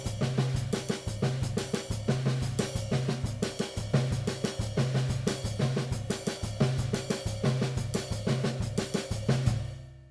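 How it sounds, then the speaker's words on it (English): A Baião drum groove on a kit, with the right hand moving between ride cymbal and low tom over a steady, syncopated bass-drum pattern. The playing is close, continuous and even, with no talk. "The first one is moving between the ride cymbal and the low tom, okay, with the right hand."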